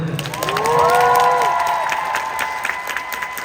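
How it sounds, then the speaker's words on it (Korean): Concert crowd at the encore show's ending, clapping and cheering loudly with high-pitched shouts and screams rising over the applause, then settling into sustained clapping. "한번 박수 주세요"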